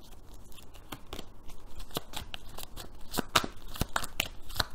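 Tarot cards are handled and shuffled to draw a single card, giving a run of quick, crisp slapping and riffling snaps, close and fairly quiet, over a faint background.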